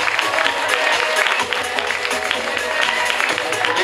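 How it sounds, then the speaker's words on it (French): An audience at a lingerie fashion show claps steadily and warmly, dense applause filling the room without pause. "Allez, on vous l'applaudit bien fort"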